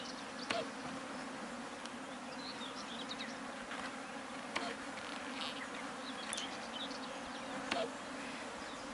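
Honey bees in an opened hive during a colony health check give a dense, steady buzzing drone, close and continuous, with faint scattered clicks and knocks from frames being handled.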